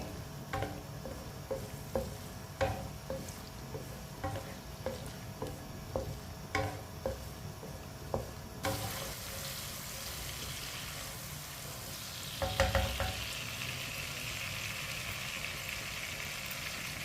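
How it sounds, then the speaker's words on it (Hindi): Garlic and chopped tomato cook in a pan with a faint sizzle. Soft taps and scrapes recur through the first half, then the frying grows brighter and louder, with a brief stirring burst near the end. Everything is heard quietly and close, with no voices. "लहसुन, लहसुन और टमाटर को 2 मिनट के लिए पका लेंगे।"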